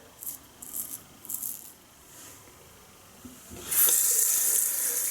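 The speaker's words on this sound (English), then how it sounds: "Keep the razor really well rinsed with this stuff." Tap water runs into a sink while a razor is rinsed under it during a shave with Barbasol Sensitive Skin shaving cream, first as a few short splashy bursts, then as a louder steady hissing stream near the end.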